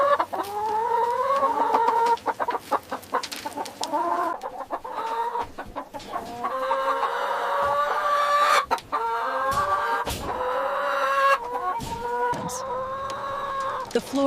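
Many Leghorn hens cluck and squawk together in a barn, a dense continuous chorus of fowl calls, steady and fairly close, with no talking.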